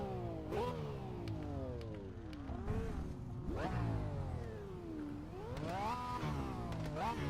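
A Lamborghini engine revs repeatedly in the Automobilista 2 racing game, rising and falling in pitch in several sweeping bursts with gear-change dips, loud and alone with no talking.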